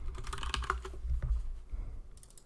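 Typing on a computer keyboard while searching for an item: a rapid run of close, crisp key clicks, then a brief pause and a few more taps.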